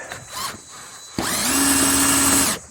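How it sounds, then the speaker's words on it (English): A brief mechanical whir, then a power drill spins up sharply and runs steadily at high speed for over a second before stopping, drilling holes in an old semi trailer door. "let me just drill out these other 2 holes"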